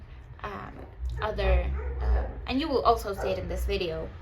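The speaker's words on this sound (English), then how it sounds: "Sorry for the dogs screaming their little house out." Small dogs yap and bark in bursts indoors, partly under someone talking steadily about planning pages.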